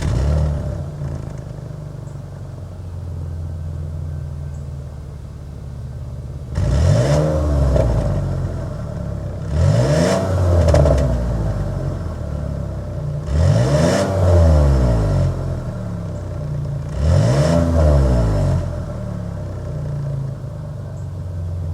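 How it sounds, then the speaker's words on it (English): A 2022 Cadillac XT6's naturally aspirated V6 is revved four times at idle, each blip rising in pitch and falling away over a steady low exhaust hum, loud and close. "Let's go inside, start it up, hear that exhaust note."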